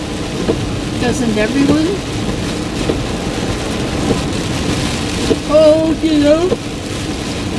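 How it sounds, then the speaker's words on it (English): Steady heavy rain drums on a car while driving through a thunderstorm, a dense broadband wash filling the whole clip as two people talk over it. "The rain is so pretty."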